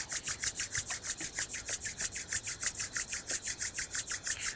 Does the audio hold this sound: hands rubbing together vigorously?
yes